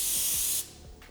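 An aerosol spray can hisses in one steady, loud burst for about half a second in a home kitchen while baking zucchini brownies, then cuts off, leaving faint low thumps and room noise.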